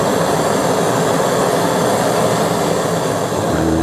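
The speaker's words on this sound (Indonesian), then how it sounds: "ini sudah menjadi mesin las mini. Ini bisa kita kecilkan apinya." A homemade mini welding torch throws out a loud, steady roaring flame, a dense broadband rush that holds nearly unchanged from start to finish with no voices over it.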